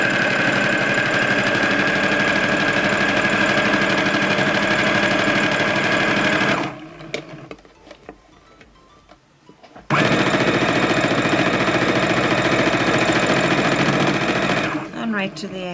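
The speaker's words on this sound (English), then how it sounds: "you'll hear the sound of the machine getting faster" A sewing machine stitches along a fabric strip in a loud, dense, rapid whir, stopping briefly partway through and then resuming at full speed until near the end.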